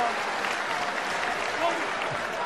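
Rugby crowd at a 2018 play-off match between Scarlets and Toyota Cheetahs applauds a Scarlets turnover, a steady wash of clapping from a distant stadium audience under a commentator's voice.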